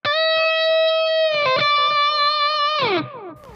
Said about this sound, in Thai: แล้วก็ดันสาย2ช่อง15 1เสียงเต็มครับ